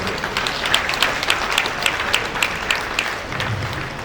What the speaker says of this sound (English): please give my chairman a round of applause